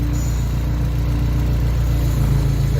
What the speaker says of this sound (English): We're just at idle, that's why you can hear the tractors trying to stall out a little bit.